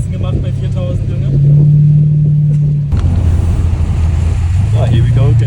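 Mercedes CL500 V8 fitted with a straight-pipe exhaust during an AMG conversion, a loud deep rumbling engine that swells into a sustained rev, drops off, then drones on under excited talking.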